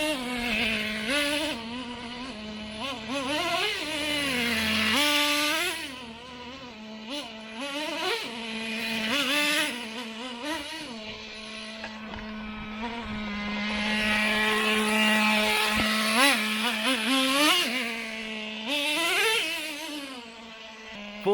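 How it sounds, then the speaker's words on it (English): A Traxxas T-Maxx 2.5 nitro RC truck engine revs up and drops back again and again, a buzzing, high-pitched whine that rises and falls in repeated surges, fairly close and with no talking. "Full throttle, then brake, full throttle, then brake."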